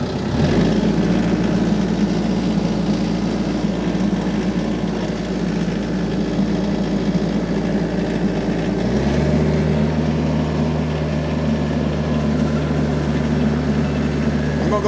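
A heavy diesel tractor engine rumbles steadily up close while tilling land, its low drone shifting to a deeper, throatier pitch partway through, with no talking.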